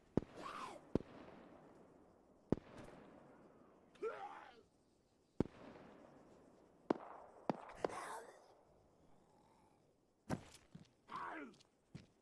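Scattered single gunshots in Arma 3 Exile, sharp cracks spaced irregularly across a quiet backdrop, some sounding distant, with a voice talking between them.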